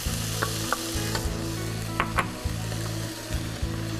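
Mushrooms sizzle as they hit a hot pan of sauce during pasta cooking, a steady frying crackle with light stirring clicks and scrapes, close up and without talk.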